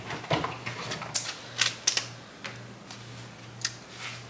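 Tarot-style cards handled and shuffled quickly, heard as a series of crisp, close riffling snaps and taps in uneven bursts over a faint steady hum.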